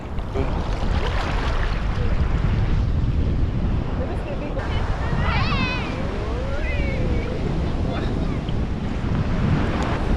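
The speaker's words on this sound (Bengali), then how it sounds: "বড় একটা ওয়েভ এলো" Big ocean waves break on a powdery sand beach in Barbados with a steady, loud wash of surf under heavy wind buffeting on the microphone, and faint voices now and then.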